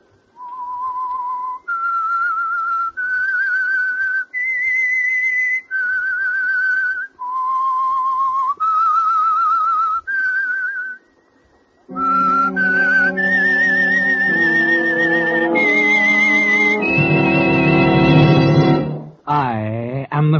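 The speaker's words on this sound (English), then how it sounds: "That whistle is your signal for the Signal Oil Program" The whistled theme of The Whistler radio drama, sponsored by Signal Oil: a lone melody of sustained notes stepping up and down, then rising over a swelling orchestral accompaniment, loud and close, with no voices.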